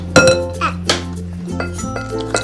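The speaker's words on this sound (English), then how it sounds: "you give it a stir while I crack the next egg" Kitchen clinks and taps of an egg cracking against a bowl while making carrot cake batter, a few sharp close knocks spaced over a couple of seconds with a soft hum in the background.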